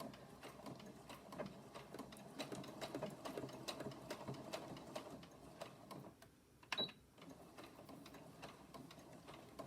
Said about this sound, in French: je viens juste faire une petite couture de chaque côté